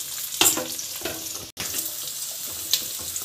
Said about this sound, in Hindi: प्याज हमने थोड़ी देर तक भून लिया है